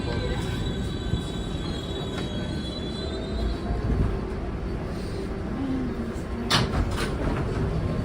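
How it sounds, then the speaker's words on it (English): A New York City subway 7 local train bound for Flushing Main Street, a loud steady rumble of rolling wheels with squealing metal tones and clanks, heard from inside a car. "This is a Flushing Main Street bound 7 local train."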